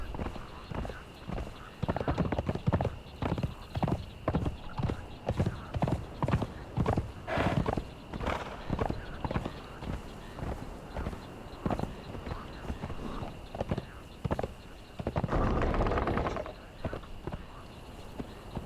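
Horse hooves clip-clop steadily while riding in Conan Exiles, a regular rhythmic trot of close, clear hoofbeats with a brief whinny-like burst near the end and occasional creaks.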